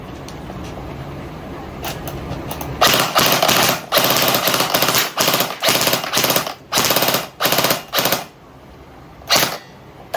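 A battery-powered DB M4 airsoft rifle fires on full auto in a string of loud, rapid mechanical bursts of varying length with short pauses between them, close by and with no voices.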